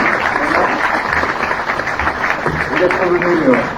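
Applause from a community council meeting audience for the staff, partly buried under speech and room murmur, with voices continuing throughout.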